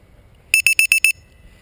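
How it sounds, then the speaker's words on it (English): A LiPo battery alarm plugged into a quadcopter gives five short, evenly spaced high electronic beeps in quick succession, loud and close against a quiet background. "LiPo alarm."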